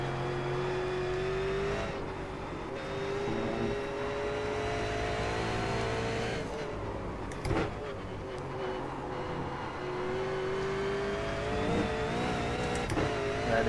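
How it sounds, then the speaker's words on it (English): An iRacing sim race car, a sprint car and Silver Crown hybrid with a gearbox set up like a V8 Supercar at Road Atlanta, its engine droning steadily with shifting pitch as it accelerates and lifts, close and continuous without talk. "driving a combination hybrid of the Sprint car and the Silver Crown car"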